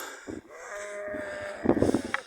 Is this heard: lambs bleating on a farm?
yes